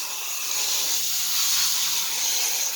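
Steady, hissing spray of water rinsing red clay mud off a nursing mother dog, close and continuous with no breaks and no talking.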